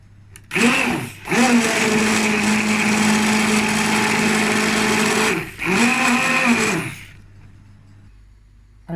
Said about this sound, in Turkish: Arkadaşlar şimdi çorbamızı blender'a vuralım.